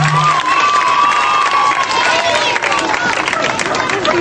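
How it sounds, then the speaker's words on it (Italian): A theatre audience at Pino la lavatrice's show in Prunella claps on request as a test, producing dense, steady applause mixed with crowd murmur that holds at full strength throughout. "Vi chiederei di fare una prova di applauso come se lo spettacolo fosse mediamente carino."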